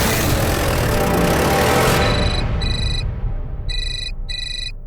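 A mobile phone ringtone sounds in a Hindi crime drama, repeated bright tonal bursts in short, evenly spaced pairs, following a loud wash of noise that fades out.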